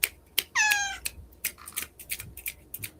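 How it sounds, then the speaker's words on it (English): Cats yowl and squeal in a short scuffle indoors, with a drawn-out rising cry followed by sharp clicks and scrabbling bursts, fairly faint and close, with no talking. "Cats are just fighting."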